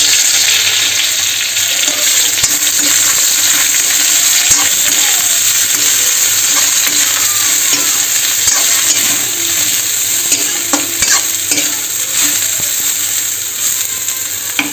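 Food frying in hot oil in a heated kadhai, a loud continuous hiss and crackle that stays even throughout, with faint scrapes of stirring underneath.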